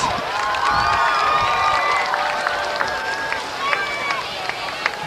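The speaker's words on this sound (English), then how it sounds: "I want to hear some applause for these drivers." A speedway grandstand crowd at Stockton 99 Speedway in 1999 cheers steadily for the drivers, with sharp whistles rising over a continuous roar and scattered shouts.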